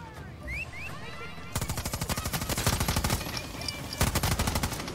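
Rapid automatic gunfire in the video game Far Cry 6: after a quiet opening, dense bursts of loud repeated shots rattle for several seconds, pause, then resume.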